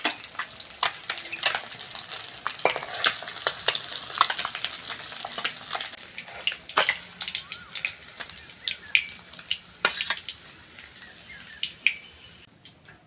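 Pieces of bhola fish fry in hot oil, giving a continuous sizzle broken by sharp, irregular pops and crackles, close and alone without voices.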